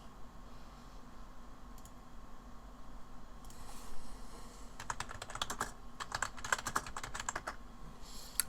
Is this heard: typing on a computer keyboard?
yes